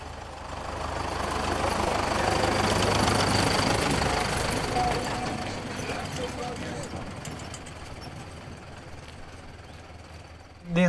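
A farm tractor approaching with a low engine rumble and knocking idle, growing louder then easing off, under steady conversation.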